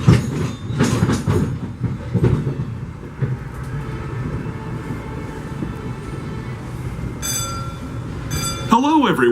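The Disneyland Railroad train rolling along its track, with a steady rumble and clickety-clack of wheels, a squeal near the end, and people talking aboard.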